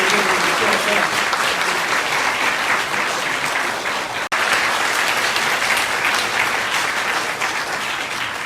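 A hall audience claps steadily and loudly for the outgoing hospital director at a medical school leadership handover ceremony, with dense, even applause that briefly dips mid-way before resuming.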